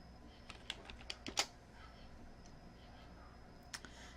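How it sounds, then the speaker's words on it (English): Keys are tapped on a computer keyboard while entering a username on a forum admin page, a handful of sparse, quiet clicks spread irregularly over a few seconds with a brief cluster in the middle. "I would just go ahead and type in admin"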